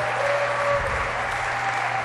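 Spectators applauding at a 2011 US Open racquetball semifinal, a sustained burst of clapping from the crowd that swells slightly midway, with a faint commentator-like tone underneath.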